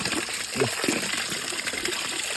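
Water from a pit pouring steadily into a tank, a continuous close splashing gush with no talking.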